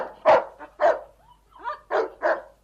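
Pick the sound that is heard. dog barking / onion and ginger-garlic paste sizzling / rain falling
dog barking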